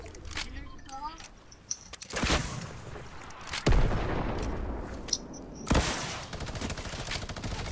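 Rapid minigun fire in a video game rolls on through most of the stretch, with bursts and booms rising and falling and someone talking over it.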